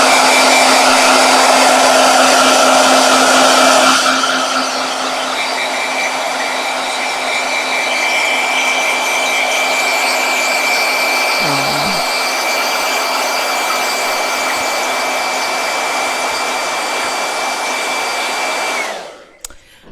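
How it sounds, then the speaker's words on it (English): A hair dryer blows loudly and continuously, dropping to a lower setting after a few seconds, then shuts off near the end. "Blow dryer."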